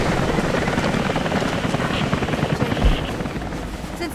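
A helicopter's rotor in the video game Rise of the Tomb Raider thrums steadily and loudly throughout, a dense continuous chopping roar with no voices.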